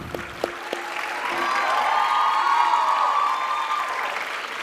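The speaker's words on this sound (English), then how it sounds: "Biggest round of applause goes to your parents" Applause and cheering break out for the graduates' parents at a dental sciences graduation ceremony, building from a few scattered claps into sustained, dense clapping from a large crowd that holds steady to the end.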